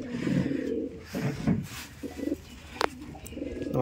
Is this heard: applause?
no